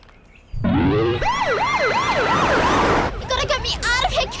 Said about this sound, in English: we've called an ambulance to take him to the hospital